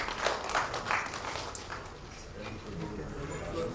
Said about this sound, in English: Let's welcome with a big round of applause